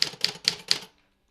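A typewriter clacks out four crisp, evenly spaced bursts of keystrokes, loud and close, then falls silent.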